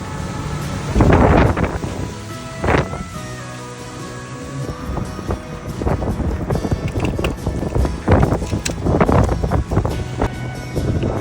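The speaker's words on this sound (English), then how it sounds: "it was super windy out there." Strong gusts batter the microphone in loud rumbling bursts in San Francisco, with whooshing wind and faint background noise between the blasts.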